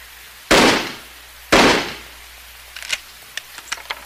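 Two loud, sharp shotgun blasts from the survival horror game Siren: Blood Curse, about a second apart, each with a decaying tail, followed by faint scattered clicks and knocks.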